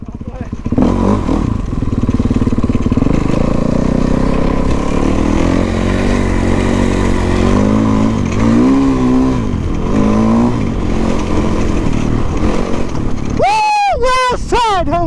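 A stunt dirt bike engine roars loud and close, revving up and down in a long sustained drone, then it cuts to sharp rising rev bursts at the end, with voices talking over it.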